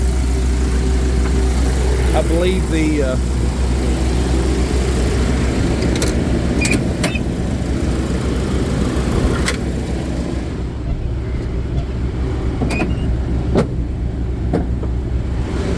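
A refrigeration unit runs on a 2012 Mitsubishi reefer truck as a steady, loud mechanical drone throughout, with someone talking briefly over it and a few faint clicks.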